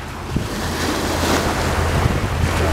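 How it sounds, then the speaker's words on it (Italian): Waves on Lake Maggiore slap and surge steadily against the shore in gusty wind, a continuous loud wash of water with wind rumble buffeting the microphone. "Sì, ci sono un bel po' di onde."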